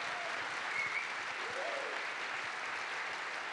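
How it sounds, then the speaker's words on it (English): An audience at a robotics conference applauds for a presenter, a steady, soft wash of distant clapping from a large crowd, faint and even throughout. "let's give him also an applause"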